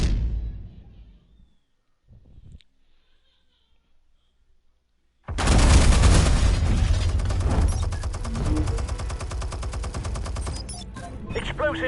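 Gunfire from a Batman game erupts after a near-silent stretch, then continues as a dense, loud stream of shots and bursts mixed with booms and clattering action.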